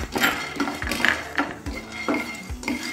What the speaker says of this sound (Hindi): इसमें ये भुने हुए चने डाल दें